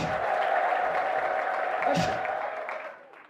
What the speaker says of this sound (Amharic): አጨብጭቡ ለጌታ ኢየሱስ።